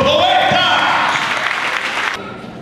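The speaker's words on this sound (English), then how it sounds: "Big round of applause for this dope collector!" Applause from an audience greeting a dub poet, steady clapping with some cheering that fades and cuts off near the end.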